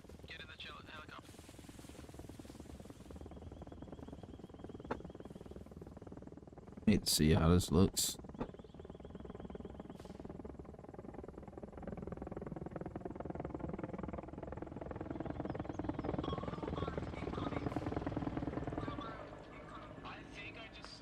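Helicopter in the video game Arma Reforger, a steady low rotor drone running under talk throughout, with a brief loud burst near the middle.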